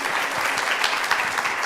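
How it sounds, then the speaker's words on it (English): Dense, steady applause from an audience at an academic colloquium after presentations, loud and close, filling the whole moment with no speech over it. "can we give a round of applause to"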